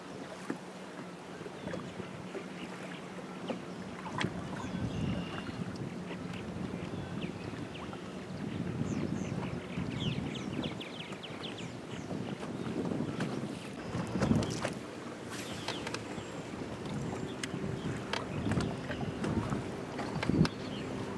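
Wind buffets a microphone on a bass-fishing boat on the Great Lakes, a steady rushing roar for the whole span, with occasional knocks and clatter on board and faint water sounds.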